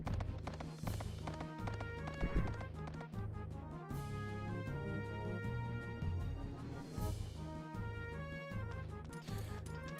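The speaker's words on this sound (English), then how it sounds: "We're back on the horse now," Horse hooves clip-clop steadily in Suikoden 3, a regular trotting rhythm under a backdrop of game music, moderately loud and continuous with no talk.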